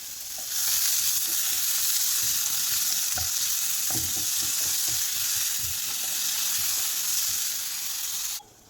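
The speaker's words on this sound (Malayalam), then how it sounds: "ഉള്ളിയും തക്കാളിയും ഒക്കെ ഇവിടെ വഴന്ന് വന്നിട്ടുണ്ട്" Onions and tomatoes sauté in a pan for a vellarikka masala curry, giving a continuous close sizzle with scraping stir strokes throughout, then an abrupt stop, with no talking.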